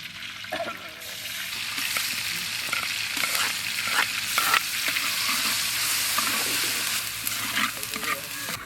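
Ground ginger-garlic paste fries in sesame oil while being stirred, making a steady, loud sizzle with scraping stirs throughout.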